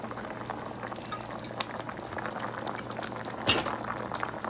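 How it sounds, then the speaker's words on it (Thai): Pickled bamboo shoot curry broth seasoned with fish sauce simmers in a pot, a quiet, steady bubbling with scattered ticks and one sharp utensil clink near the end, no voices. "เคี่ยวสักพักหนึ่งประมาณห้านาที"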